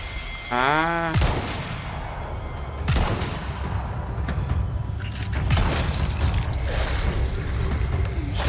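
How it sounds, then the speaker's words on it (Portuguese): Magnum revolver shots in Resident Evil 4 Remake, several loud heavy blasts spaced a couple of seconds apart, each with a booming tail, following a rising game tone at the start. "Três tiros de Magno."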